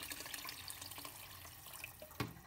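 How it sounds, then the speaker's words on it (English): Water poured over vegetables in a pot for butternut squash soup, a soft continuous splashing and trickling with a brief louder clunk near the end, fairly faint and without speech. "we're going to cover the vegetables with water, enough water to cover the vegetables"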